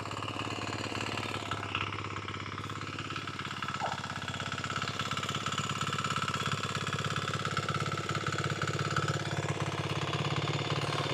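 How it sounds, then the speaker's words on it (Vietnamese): Steady, noisy rumble of a tractor's engine plowing a rice paddy, running continuously and fairly loud throughout, with a knocking, chugging quality and no talk over it. "Bây giờ thì có vẻ như là tiếng cái máy cày của bác nó còn khá là ồn."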